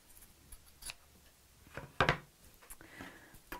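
Scissors cut scrap fabric around a curve in a few soft, scattered snips, one sharper and louder near the middle, with no voices.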